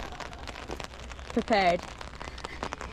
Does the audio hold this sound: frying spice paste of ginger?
no